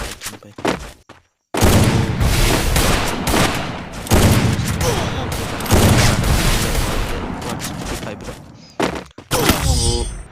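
Rapid bursts of gunfire from AWM sniper rifles in a mobile battle game, loud, dense and repeated, with brief pauses between volleys.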